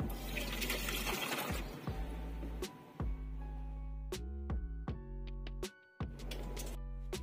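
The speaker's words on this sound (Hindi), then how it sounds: "तो मैं एक बार पानी डालता हूँ" Water is poured into the wiper cowl vent of a Hyundai Santro, with splashing gushes and short bursts of liquid running through the drain channel, mixed with background music.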